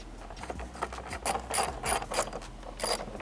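A ratchet loosening T25 screws on a Porsche 992 911 during an intake install, quick repeated clicking strokes close by, fairly soft and steady with no speech.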